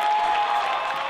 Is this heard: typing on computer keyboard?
no